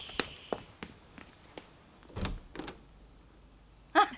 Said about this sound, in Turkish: Ben açarım kapıyı.